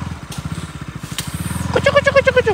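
Motorcycle engine idles with a steady chugging pulse in a traffic jam, close by, and a higher tonal, bleating-like sound joins over it near the end.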